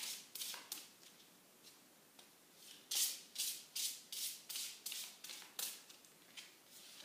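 Oracle cards from an Andara crystal deck are shuffled by hand in a quiet room, a series of soft, papery riffling bursts in a steady rhythm, close and fairly faint.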